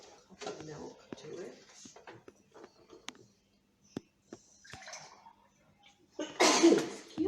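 A single sharp sneeze bursts out near the end, loud and close, in a kitchen where cream of mushroom soup is being cooked, following stretches of speech and faint clatter.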